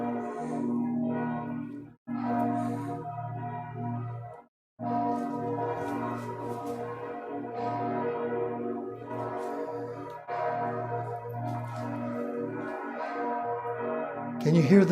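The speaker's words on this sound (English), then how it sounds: "The cathedral next door must have heard wind that I finished the painting. They're chiming the bells." Cathedral church bells chime repeatedly from close by, their ringing tones overlapping in a steady peal with a couple of brief pauses.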